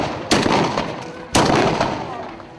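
Two loud gunshots from reenactors firing historic guns ring out about a second apart, each a sharp blast followed by a rolling echo that fades away.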